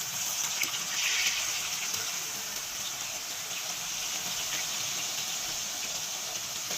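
Onions coated in maida flour fry in hot oil with a steady, bright, hissing sizzle that holds throughout and swells briefly near the start, with no talking.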